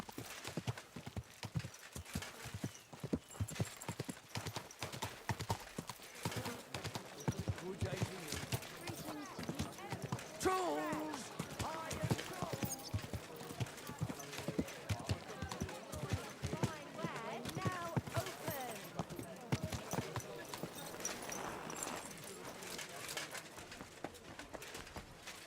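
Horse hooves clip-clop steadily in Kingdom Come: Deliverance II, a medieval role-playing video game, with occasional neighs and whinnies; the rhythmic footfalls run close and continuous throughout, with a voice speaking over them at times.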